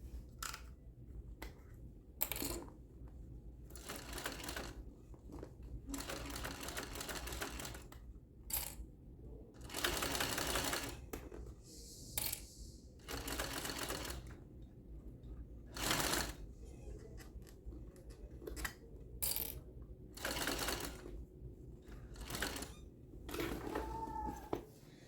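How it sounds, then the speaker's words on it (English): A sewing machine topstitches around the entire edge of a handmade bag at an eighth-inch seam allowance. Many short, quiet bursts of rapid stitching are broken by pauses, clicks and the rustle of fabric being turned. "now we are going to go and top stitch around the entire thing at 1/8 of an inch"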